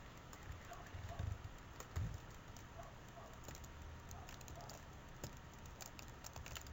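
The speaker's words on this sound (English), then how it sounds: "so I'm just going to delete it by hitting backspace" Quiet computer keyboard taps, a few soft key presses scattered irregularly over low room noise, with no talking.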